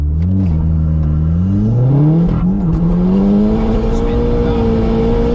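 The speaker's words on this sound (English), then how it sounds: "I think that was all wheel spin, second gear" A 2008 Seat Leon Cupra K1 with a Stage 2 tune launches hard with wheelspin into second gear, its engine note rising steadily and loud and close for several seconds, while people talk over it.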